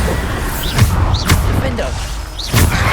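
Bombarda spell blasts in the game Hogwarts Legacy, several booming thuds with whooshing bursts spaced about a second apart, loud and close, while a voice keeps shouting spell names over them.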